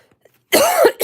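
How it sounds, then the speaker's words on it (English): A single harsh cough, close and loud, following a brief near-silence. "Excuse me with my cough."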